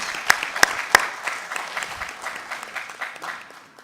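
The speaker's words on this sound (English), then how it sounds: "Clap for ourselves." Conference delegates applaud after a motion is carried, opening with three sharp, loud claps before settling into lighter, scattered clapping that gradually thins out.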